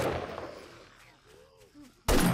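Gunfire in the zombie survival game 7 Days to Die during a horde night, with a loud burst of shots at the start and another abrupt blast at the end, a voice speaking in between.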